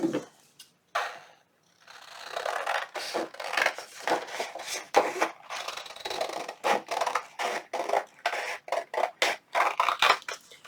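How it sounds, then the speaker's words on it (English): Repeated crisp snipping and scraping of scissors cutting through paper, a steady run of short cuts close by with brief pauses between. "And we'll get our scissors."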